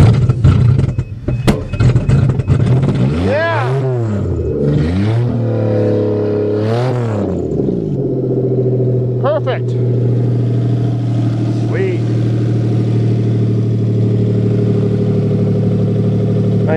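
A 1991 Toyota Camry engine cranks, catches and revs in cold winter weather, rising and falling a few times before settling into a steady, loud idle.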